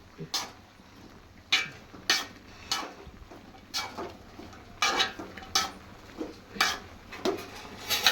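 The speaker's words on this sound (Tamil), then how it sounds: "திருப்பி நம்ம காயை கிளறி விடுவோம்" Vegetables for a Kanyakumari-style avial are stirred in a pot, a utensil scraping and knocking against the pot in repeated, fairly regular strokes roughly every half second to second, moderately close with a low background hum.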